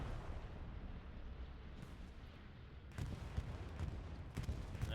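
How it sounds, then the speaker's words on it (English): Bombing-run explosions in a multiplayer war video game, heard as a low, steady rumble with heavier dull blasts bursting in the second half, moderately quiet, with no talk. "The bombs just barely miss."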